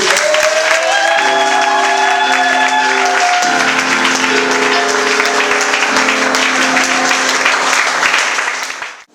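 Church congregation applauding during a Sunday worship service, sustained loud clapping and crowd noise throughout with sung or held musical tones beneath, fading out at the end.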